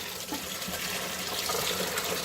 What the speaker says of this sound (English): this is pumping a lot of water